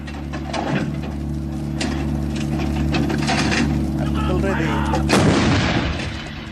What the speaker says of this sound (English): now fire 3 rounds in area diamond